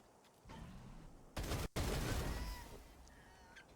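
Submachine gun fire in Wasteland 3, with small rocket or grenade rounds shooting from it: a sharp burst of rapid shots, then a louder blast and rumbling aftermath, fairly loud with no talk.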